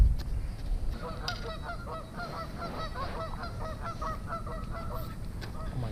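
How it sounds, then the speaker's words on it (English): A flock of geese honks repeatedly in a rapid, chattering chorus at moderate distance by a pond, over steady low background rumble. "those geese are annoying, bro"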